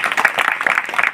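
An audience at a temple dance performance in Achara, Devulwadi, claps for Shri Gangeshwar Mitra Mandal in a brief, dense burst of many hands applauding together.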